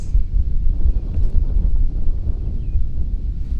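Strong wind gusting across a farm on a windy day, a steady low roar buffeting the microphone, close and continuous with no voices.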